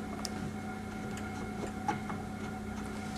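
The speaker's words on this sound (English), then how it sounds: "then we go on to slow feed until the cutter is just touching" A Spectral MM milling machine on slow feed lowers its cutter toward the workpiece, a low steady mechanical hum with faint regular ticking and occasional light clicks.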